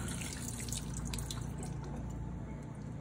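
Water runs and drips while rinsing out a glass wine carboy for homemade winemaking, a steady splashing trickle with faint droplet patter, close and fairly quiet.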